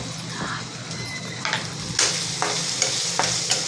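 Ground spices, coriander powder, chili and homemade masala sautéed in a pan for a drumstick curry: steady close sizzle with scraping stirs, sharp spatula clicks around the middle and toward the end.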